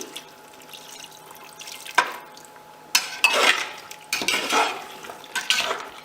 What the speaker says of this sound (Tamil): ஒரு 1/2 டம்ளர் தண்ணி ஊற்றி